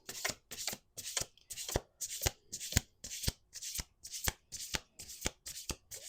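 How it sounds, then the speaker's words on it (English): Tarot cards shuffled by hand in a steady rhythm of about a dozen crisp riffling bursts, each ending in a soft tap as the deck squares up, close and fairly quiet. "let's do 2 more shuffles"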